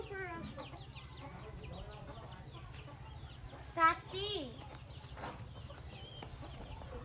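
Chickens cluck at a rural family home while children and adults talk over them, with a steady low hum running underneath.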